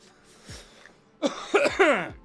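A person on a casual chat stream coughs and clears their throat: a faint cough first, then a louder cluster of three harsh, close coughs in quick succession.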